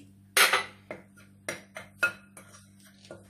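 A spoon clinks and taps against a bowl while flour and yeast are mixed for an eggless apple cake batter: a handful of sharp, separate knocks at an uneven pace, close and clear, with no talking.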